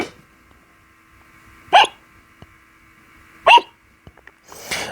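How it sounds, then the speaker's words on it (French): Two distinct hiccups from a child laughing so hard he gets the hiccups, each a sharp vocal catch spaced about two seconds apart, heard alone against quiet background with a faint soft rustle at the end. "qu'il en avait le hoquet"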